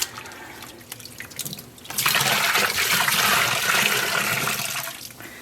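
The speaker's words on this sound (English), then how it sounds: "I will fill this up with water" Water gushes into a container for shoebox yarn dyeing with dish soap already added, starting with light splashes and then turning to a loud, steady rushing pour that eases slightly toward the end.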